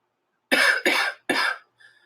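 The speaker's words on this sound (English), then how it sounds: "I feel you're going to hear me cough this week." Three sharp, close coughs in quick succession, followed by a faint short rasp.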